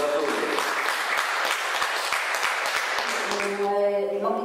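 Festival audience applauding in a cold hall, dense steady clapping from a crowd that carries through the whole stretch, with some tonal music or sound rising near the end.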